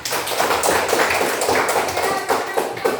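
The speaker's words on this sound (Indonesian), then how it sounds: "Oke, tepuk tangan." A group in a classroom session claps their hands in applause, a dense, close patter of many overlapping claps that continues evenly for a few seconds.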